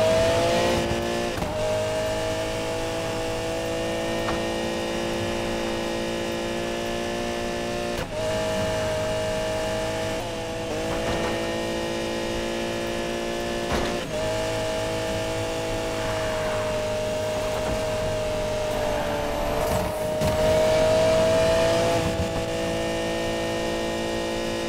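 A race car engine in Need for Speed Payback during an outrun race, a loud steady high-revving whine with brief dips at gear shifts, sustained throughout without voices.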